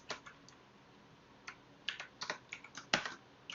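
Quiet, close keystrokes on a computer keyboard, a few scattered taps and then a quicker burst of clicks, with no talk.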